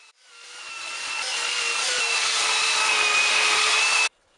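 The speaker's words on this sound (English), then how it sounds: "The head is still too big, so I'm going to use a belt sander to take it down." Belt sander grinding down the wooden head of a ball-head war club, a steady harsh whir that swells in over the first second, holds loud and abrasive, then cuts off abruptly.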